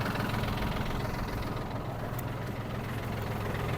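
Yanmar US-31D mini tractor engine running steadily with its mower blades turning, a continuous low droning rumble with a faint knock, close and even throughout.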